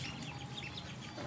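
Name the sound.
one-day-old Khaki Campbell ducklings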